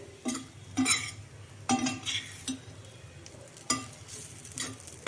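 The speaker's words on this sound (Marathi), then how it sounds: "मसाला अगदी व्यवस्थित परतला गेलेला आहे" Spice masala for stuffed brinjal sizzling in a pan while a spoon stirs and scrapes in uneven bursts, with occasional metallic clinks against the pan.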